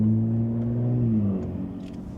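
A Ram RHO truck with a new aFe intake given a little throttle, a close, loud engine rev whose pitch climbs and then falls away as it settles back, heard alone without talk.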